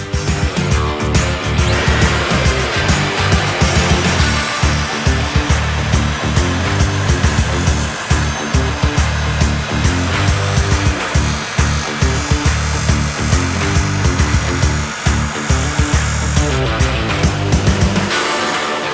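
A skate blade sharpening machine with a grinding wheelstone and a sled holding the whole skate runs loud and steady, a continuous close motorized grinding whine that holds for the full stretch before easing at the end.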